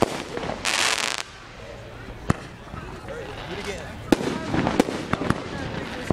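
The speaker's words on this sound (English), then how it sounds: "That one shot off a lot quicker." A firework rocket launches at a local park with a loud hissing whoosh lasting about half a second, followed by scattered pops and bangs while people talk and shout nearby.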